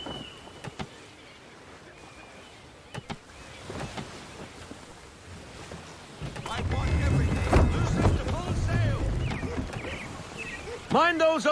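A sailing ship moves through water in Assassin's Creed 3, first quiet with faint creaks and thuds, then a louder rushing swell of water and wind against the hull, ending with sharp wooden knocks.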